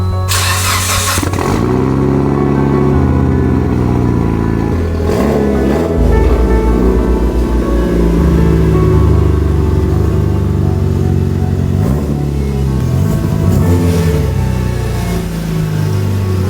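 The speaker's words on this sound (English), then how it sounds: "this engine does start" A Mitsubishi Lancer Evolution X with an unknown fault starts and runs, a loud close engine cranking then settling into a rough idle with revs rising and falling.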